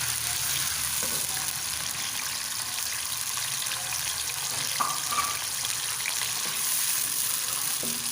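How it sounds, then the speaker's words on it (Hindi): Onions fry in hot oil with a dense, steady sizzle and a few scraping stirs, close and continuous with no speech. "प्याज को हम लाइट ब्राउन करेंगे।"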